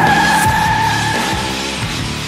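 A powerful car does a burnout, its tires squealing loudly and steadily with a high-pitched screech over the roaring engine, close by, for the whole stretch with no talking.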